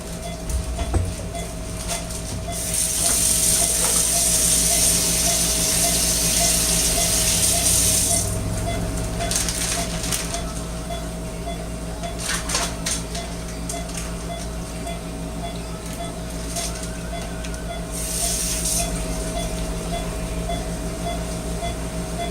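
The packaging of a sterile surgical gown is opened, with crinkly paper rustling and tearing in several bursts over a steady background hum.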